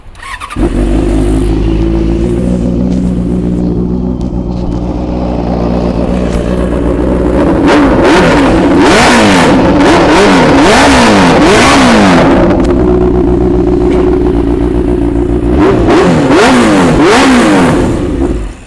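A Benelli TNT 600 motorcycle engine idles steadily, then revs hard in repeated throttle bursts, loud and close, settling back to idle between rises.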